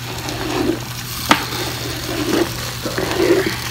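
Chopped potatoes, onions and celery tumble into a Power Quick Pot for beef stew in several soft, rustling bursts, with a sharp knock against the pot partway through and a low appliance hum underneath.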